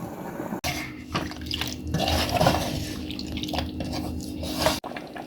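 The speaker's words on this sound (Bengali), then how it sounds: "মাংসতে বলক এসেছে, এখন আমি ঢাকনা দিয়ে ডেকে দেব" A chui jhal meat curry boils in a covered pot over a medium flame, a steady close bubbling and watery simmer with a few soft knocks.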